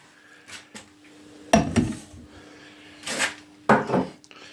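A home smoker loaded with alder sawdust is closed, giving a few sharp metallic clanks and knocks of the lid being handled and set in place, close by in a quiet space.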